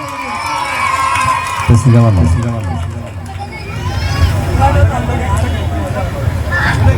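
An audience at a fashion inauguration event in Malappuram claps and cheers, with shouts and a dense crowd babble that swells and stays loud throughout, voices talking over it.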